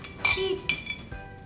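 Glasses touched together in a holiday drinks toast, a bright ringing clink followed by two softer clinks in quick succession, close and fairly quiet.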